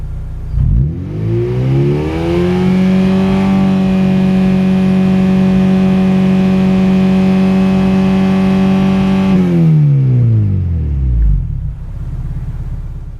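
A Honda Civic EG6 race car engine is revved up and held at high rpm for several seconds during a noise test, loud and close, before dropping back to idle.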